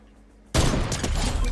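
Gunfire in the Fortnite video game breaks out abruptly after a quiet moment. A loud, dense burst of rapid shots carries on continuously to the end.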